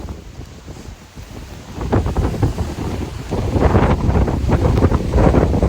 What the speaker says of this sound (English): the wind's ripping in pretty hard over this hill